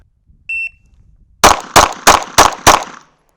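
A pistol shot timer gives a single short electronic beep during pistol practice. After a pause, five loud, evenly spaced pistol shots ring out close by.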